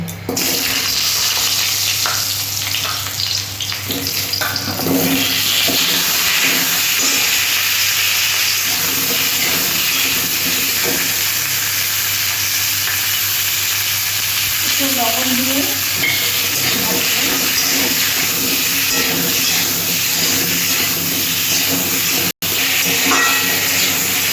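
Long potato strips frying in a pan for an egg-fritter curry, a steady close sizzle and hiss running throughout with occasional stirring clatter and faint voice-like sounds mixed in.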